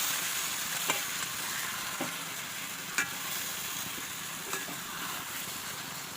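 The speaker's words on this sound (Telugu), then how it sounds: "ఈ ఉప్పు కారం అల్లం వెల్లుల్లి పేస్టు పసుపు పెట్టుకున్న చేపల్ని దీంట్లో వేసేసుకోవాలి" Small fish marinated in salt, chili powder, ginger-garlic paste and turmeric fry in hot tempering oil, giving a steady, close hiss of sizzling broken by a few soft stirring knocks, with no voices.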